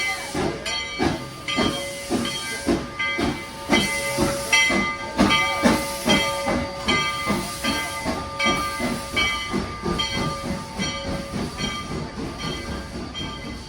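A steam train on the Georgetown Loop Railroad hisses loudly and steadily at close range, with a regular chuffing pulse under the hiss and some ringing metallic tones.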